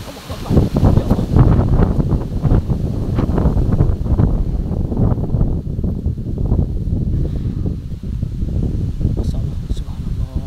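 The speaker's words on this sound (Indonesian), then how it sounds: "Kenapa tiba ada angin seperti ini?" Strong sudden wind roars at the edge of a small forest, a loud, continuous gusting rush with rustling that stays dense throughout and eases slightly near the end, with a voice faintly mixed in.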